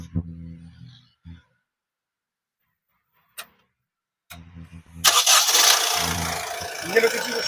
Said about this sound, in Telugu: इंजन అయితే ఒకసారి స్టార్ట్ చేస్తాను చూడండి.